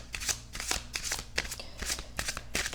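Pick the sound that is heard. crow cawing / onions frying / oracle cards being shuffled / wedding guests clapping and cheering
oracle cards being shuffled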